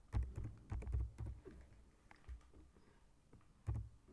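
Keys on a computer keyboard tapped in quick clustered bursts while data is renamed in EViews, then a lull and a final short run of presses, close and fairly quiet.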